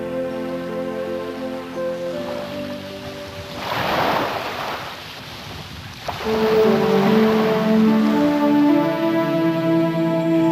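Waves wash onto Maroni beach on the Thrace coast of Greece, a broad, moderately loud surf rush swelling and receding under wind, with tonal background music running throughout.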